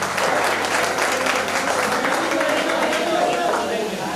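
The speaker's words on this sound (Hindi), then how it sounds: "और हमारे फैकल्टीज के लिए जोरदार ताली बजा दो।" Audience applause for faculty at a design institute's tenth anniversary celebration, a dense steady wash of clapping filling the whole stretch at close range.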